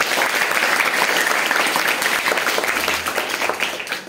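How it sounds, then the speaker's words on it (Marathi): Audience at a school event applauding to welcome a guest, sustained crowded clapping at moderate level that thins slightly toward the end. "साहेबांचं आपण या ठिकाणी जोरदार टाळ्या वाजवून स्वागत करूया."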